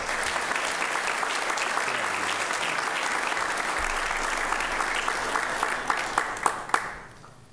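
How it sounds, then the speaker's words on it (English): A church congregation at a Sunday worship service gives a sustained round of applause, dense clapping from many hands that fills the room, then thins to a few last claps and fades away. "So give Aiden a round of applause."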